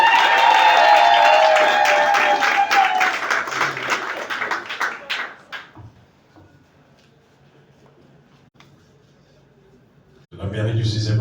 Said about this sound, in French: Sous acclamation, s'il vous plaît.